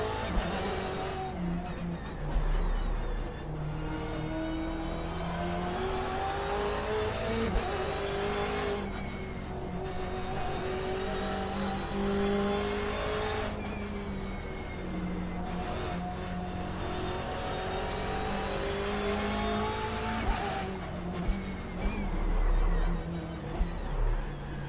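A BMW M8 race car in the iRacing video game runs the Nordschleife, its engine droning loud and steady at high speed downhill, rising and falling as it shifts and revs through the valley.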